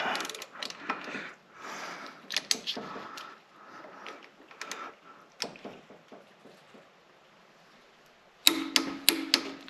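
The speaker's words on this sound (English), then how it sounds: "got my torque wrench set at 70 foot-pounds" Torque wrench set to 70 foot-pounds tightening flywheel bolts on a 1998 Dodge Neon during a clutch repair, with scattered close metallic clicks and ratcheting ticks, then a sharper burst of clicks near the end.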